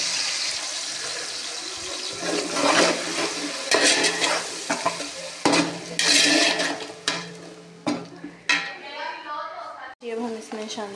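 Spices go into browned onions frying in a pan for beef yakhni pulao, with loud sizzling, stirring scrapes and clinks of cookware beneath a person talking.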